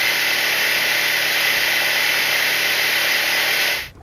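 A Honda 50HP outboard engine on a Stessl Sportsman 440 boat runs steadily at close range, a constant broadband drone holding for about four seconds before cutting off abruptly.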